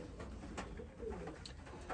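Soft, low cooing from a racing pigeon in a loft, a few gentle throaty coos over quiet background ambience.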